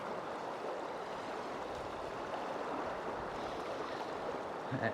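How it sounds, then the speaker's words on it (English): A river in full spate rushes steadily downstream on a fishing trip, a dense, unbroken roar of water close by with no voices, holding an even level throughout. "There's, as you can see, some serious water coming down the river."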